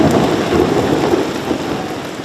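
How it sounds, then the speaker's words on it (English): Steady rain falls in a dense, continuous hiss, close and fairly loud, with no voices. "I'm just detecting the odd drop of rain."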